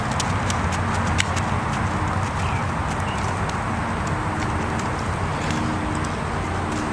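A horse, a 14-year-old rescue ridden for the first time in two years, walks with steady, rhythmic clip-clop hoofbeats at moderate distance over a constant background hiss, with no talking.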